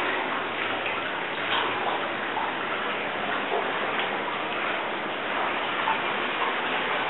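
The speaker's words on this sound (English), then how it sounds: "You can hear the source of the hot water right now." Hot spring source water at Goldmyer Hot Springs, flowing and trickling as a steady, soft wash of splashing and dripping that continues unbroken with no voices.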